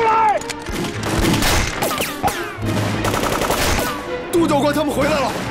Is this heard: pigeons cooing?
no